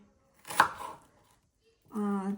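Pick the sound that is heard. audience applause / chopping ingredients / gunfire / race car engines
chopping ingredients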